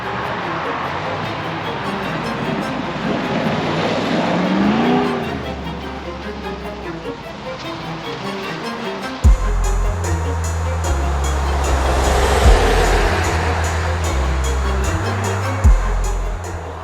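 A 2022 Jeep Grand Wagoneer with a big SRT 392 engine driving on the road: a steady low engine drone and road rumble that deepens partway through, with a few sharp knocks over the moving cabin noise.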